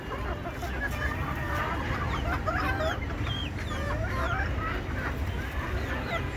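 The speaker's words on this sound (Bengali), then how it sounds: "আমার এখানে বড় ছোটো মিলে অনেক ধরনের মুরগি আছে।" A crowd of desi hens of many sizes clucks constantly, a busy, overlapping chorus of calls and squawks close up with steady background din.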